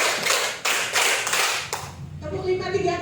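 A group of teachers at a training session claps a counted rhythmic pattern in quick, loud bursts together, then stops. A voice follows, speaking over a quieter background.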